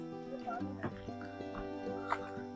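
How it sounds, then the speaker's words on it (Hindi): A dog named Tony yips and barks in short repeated bursts, moderately close, mixed in with steady tonal background sound. "टॉनी के भौंकने की आवाज आ रही है।"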